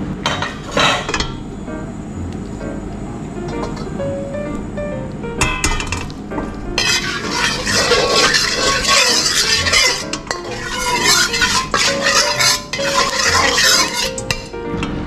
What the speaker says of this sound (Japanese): 鍋に油をしっかり染み込ませ焼いていきます。